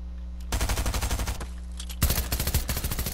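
Two rapid bursts of machine pistol fire in a video game, each a dense rattling string of shots, the first lasting about a second and the second running to the end, close and loud.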